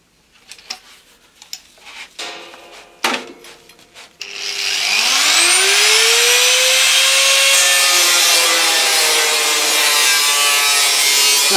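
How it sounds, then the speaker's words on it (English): An angle grinder cuts steel sheet for an electric kick scooter panel, spinning up after a few seconds of handling knocks, then a loud, steady, close high-pitched whine with a gliding tone that continues to the end. "to saw it out, obviously, I'm using an angle grinder"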